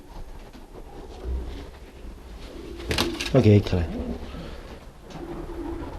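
Pigeons coo in a pigeon loft in a short burst of soft throaty calls, with someone speaking briefly and quiet background noise around.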